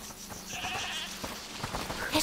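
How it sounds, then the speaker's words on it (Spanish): A goat bleats in the video game A Plague Tale: Requiem, a wavering nasal cry lasting about a second, moderately close over dim ambient game sound. "Escuchad, ¿es la cabra que mencionó?"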